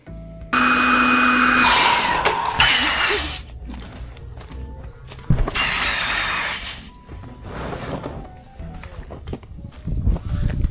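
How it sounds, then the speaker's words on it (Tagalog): A loud electric blower whirs in bursts while inflating a ball, starting and stopping several times, with rustling and handling noises between runs. "gamit yung ating nabiling vacuum. I mean blower"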